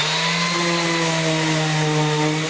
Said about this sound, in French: donc à la ponceuse excentrique avec un disque 320